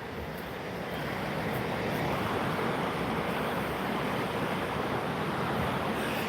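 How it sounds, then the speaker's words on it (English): A river running high with rushing creeks produces a dense, steady roar of turbulent water, close and loud, with some wind noise on the microphone and no speech. "How those little creeks are just raging torrents right now. Yeah, this river's real high right now."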